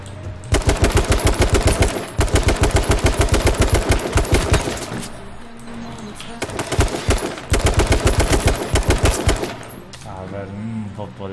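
Video game gunfire in rapid automatic bursts, dense machine-gun rattles that stop and start over several seconds, loud and close, with brief gaps between volleys and faint speech underneath.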